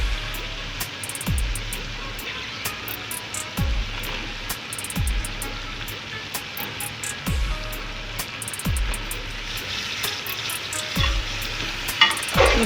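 Brinjal frying and sizzling in a masala of spices, a steady hiss with regular low knocks roughly every second as it is stirred, close and moderately loud with no talking.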